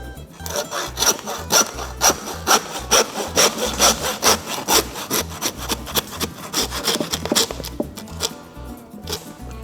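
A saw cuts through beef rib bone in steady back-and-forth strokes, loud and close, with rhythmic rasping that continues for several seconds and no talking.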